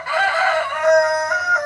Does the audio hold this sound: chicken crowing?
yes